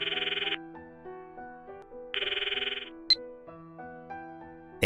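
A cell phone rings in a visual novel video game, short bright electronic trill bursts repeating with pauses, layered over soft sustained background music.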